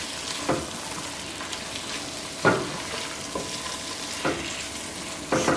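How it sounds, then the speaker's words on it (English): A spoon gently stirs fried onion and okra sizzling in a pot for bhindi masala, a steady frying hiss broken by a few soft scraping strokes at irregular intervals, near and unaccompanied by talk. "stir it very gently because you do not want to break the okra apart"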